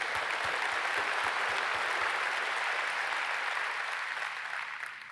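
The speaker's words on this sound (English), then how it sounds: "Give yourself a round of applause." A large conference audience applauds steadily, a dense wash of clapping that holds for several seconds, then begins to fade.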